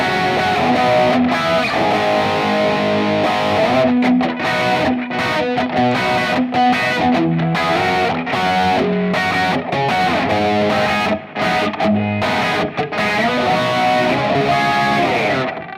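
Gibson Les Paul electric guitar played through heavy distortion, performing a song's intro riff: dense, sustained, loud chords and melodic lines running continuously without talk.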